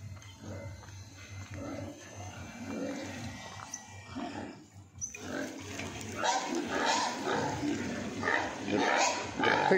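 Pigs grunt and squeal at a farm beside a village shop, rough snorting calls close by that grow louder and busier in the second half.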